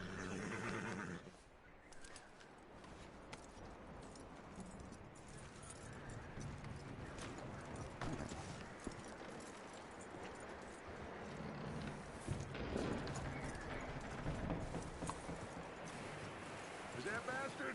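Horse hooves clip-clop in the video game Red Dead Redemption 2, a steady run of hoofbeats under continuous background noise, with a possible whinny and voices talking over it.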